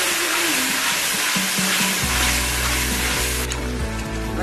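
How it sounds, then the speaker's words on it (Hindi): A paste of ginger, garlic and tomato fries steadily in a pan of golden onions, giving a continuous bright sizzle and crackle close by, with a low hum underneath and no talking. "मसाला मैंने भून लिया है"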